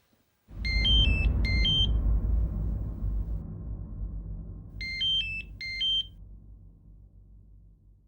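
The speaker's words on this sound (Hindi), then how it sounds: "राशिद का फोन।" An electronic phone ringtone chirps in two pairs of short melodic trills, over a loud low rumble that slowly fades.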